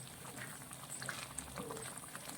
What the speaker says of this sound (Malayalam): 2 മിനിറ്റ് നേരം ഒന്ന് കിടന്ന് തിളക്കട്ടെ കേട്ടോ